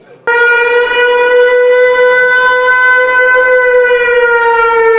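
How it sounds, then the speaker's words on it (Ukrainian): A loud air raid siren sounds during a training alert at a student dormitory of a law academy in Odesa, starting abruptly and holding one steady, piercing wail, close and alone. "адміністрація вишу провела навчальні повітряні тривоги"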